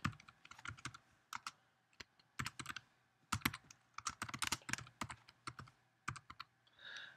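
Rapid, irregular keystrokes on a computer keyboard as a glossary name is typed in Moodle, close and clear, in short clattering bursts with brief pauses between words.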